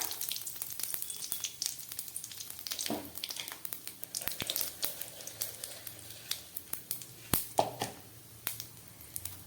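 Panch phoron and two dried red chilies hitting hot oil in a kadai for arhar dal, a close crackling sizzle with scattered sharp pops and spatters growing denser over several seconds.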